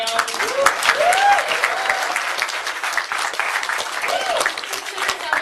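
Audience clapping at an Anime Expo 2013 panel: sustained applause from a room full of people, steady and lively throughout, with a few whoops rising above it.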